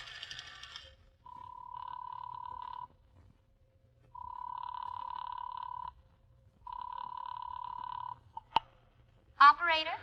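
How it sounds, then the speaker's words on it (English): An old-fashioned telephone bell rings in three long repeated bursts with short pauses between, close and clear, in a detective radio drama; a brief click and a rising whistle-like sound follow at the end. "Why doesn't that bum stop calling?"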